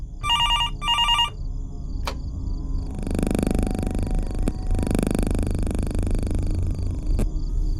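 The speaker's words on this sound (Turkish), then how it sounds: "Gece 3'te telefonun sesiyle uyanıyorum." A telephone rings at night in the horror game Fears to Fathom, two sharp electronic ring bursts followed by a low purring hum and faint clicks in a quiet room.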